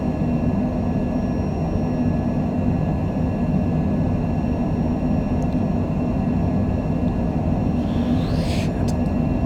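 Airliner engines roaring through a takeoff roll in a flight simulator with a 20-knot tailwind at Rio, a loud, constant broadband rumble with a steady whine that never lets up.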